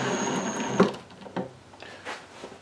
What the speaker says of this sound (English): train your drill bit and get ready to screw things in